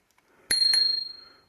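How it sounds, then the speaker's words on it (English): A small bicycle bell on a touring bike rings twice in quick succession, close and clear, the metallic tone lingering and fading over about a second. "A little bell."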